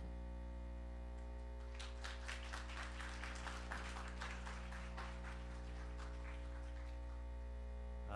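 An audience at an engineering seminar in Rio de Janeiro claps for about five seconds to welcome a visiting professor. The applause is moderate and fairly distant, over a constant electrical mains hum.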